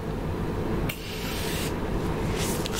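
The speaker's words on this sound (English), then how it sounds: "I'm just gonna do two sprays" Spray bottle shaken and then spritzed twice close to the microphone during an ASMR medical roleplay, two short hissing bursts over a soft steady background.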